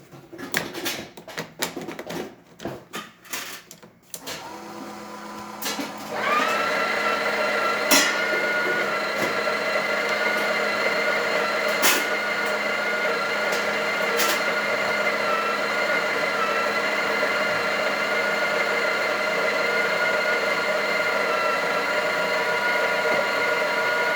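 A few clattering knocks and clicks, then a steady buzzing pump drone from a freshly tuned-up Breville espresso machine pulling a shot starts and holds evenly, close and fairly loud.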